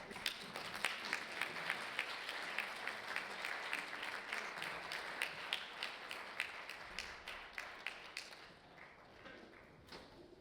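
An audience at an international peace conference opening applauds, steady clapping with sharp individual claps standing out, continuing for several seconds before thinning and fading near the end.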